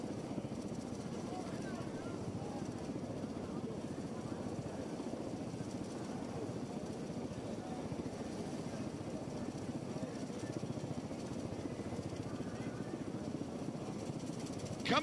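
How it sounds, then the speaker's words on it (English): An MV-22 Osprey tilt-rotor aircraft flies in at an air show with a faint, steady, distant rotor drone that carries on evenly throughout. "Coming in from your right, ladies and gentlemen, the MV-22 Osprey."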